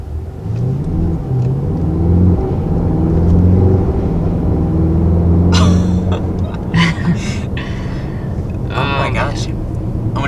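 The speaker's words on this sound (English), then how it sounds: "When it shifts gears, it sounds like it's whipping." A 2019 Mercedes-AMG GT 4-Door in sport mode accelerates with a loud, deep engine rumble inside the cabin, and brief sharp whooshes come with the gear shifts while people talk over it.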